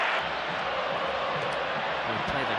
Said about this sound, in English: still they're applauding PK